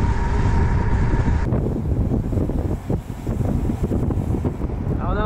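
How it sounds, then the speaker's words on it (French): Cold Atlantic wind at about 7 degrees roars across a cyclist's microphone on a road ride, a heavy, gusting low rumble that buffets continuously and dips briefly before surging again. "7 degrés et vent de l'Atlantique d'après Jaco"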